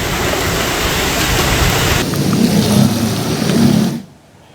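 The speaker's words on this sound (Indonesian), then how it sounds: "Meski hujan es tidak berlangsung lama" Heavy rain pours steadily over a hailstorm with rumbling thunder, a dense broadband roar with low rumbles that holds loud for about four seconds, then cuts off abruptly.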